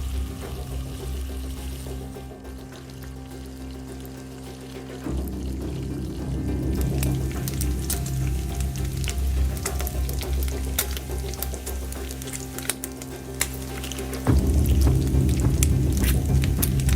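Tahu walik, stuffed tofu, fries in hot oil with a steady close crackle and sizzle. The sizzling grows noticeably louder at two points as more pieces are dropped in.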